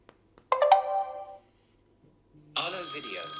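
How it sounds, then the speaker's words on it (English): An Arlo video doorbell alert chimes from a phone twice, a bright melodic multi-tone alert with a pause between, the second tone brassier and sustained. "the ring on your phone when someone presses the doorbell"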